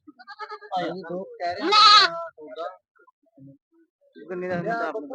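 Goats bleat repeatedly at a busy livestock market, their loud wavering calls coming in several bursts close by, with people talking around them.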